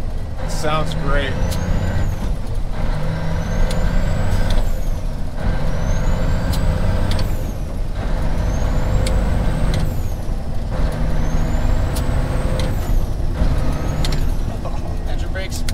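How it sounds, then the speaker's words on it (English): Engine brakes on a 1997 Kenworth T800 semi truck with a CAT 3406E and 18-speed transmission, a steady loud rumbling drone inside the cab, with repeated hissing air releases and a faint whistle over it, while people talk throughout. "Engine brakes."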